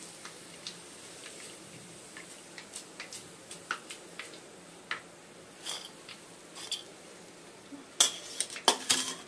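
Okra being stir-fried in a pan for a catering-style bhindi fry: quiet, scattered clicks and scrapes of a spatula against the pan, a few sharper clinks near the end.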